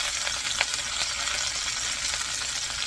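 Chicken sears in a pan right after being flipped, a steady close sizzle and crackle with a few sharper pops, continuous throughout and with no voices.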